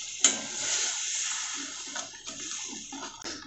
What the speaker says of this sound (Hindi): एक कप के लगभग इतना पानी डाल रही हूँ।